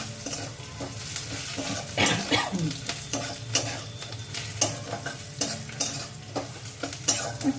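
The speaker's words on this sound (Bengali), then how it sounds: "দেখো একটু ভাজা ভাজা হয়ে যাচ্ছে, পেঁয়াজটা একটু লালচে লালচে হলেই আমি নামিয়ে" Onions fry in a hot pan with a continuous sizzle. Repeated scraping stirs and light clinks of the spatula against the pan recur steadily throughout, close up, with no talking.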